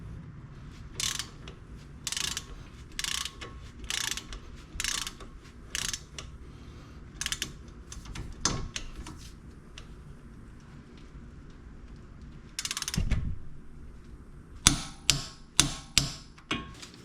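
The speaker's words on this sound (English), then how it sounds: "these are going to get torqued to 70 foot-pounds" A ratchet tightens the sway bar link bolts on a Jeep XJ with a Torx bit, giving bursts of quick clicking strokes spaced a second or two apart, close and clear, ending in a few sharper clacks.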